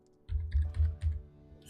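Four quick, soft keystrokes on a computer keyboard, close and quiet, tapped in an uneven burst with brief gaps between them.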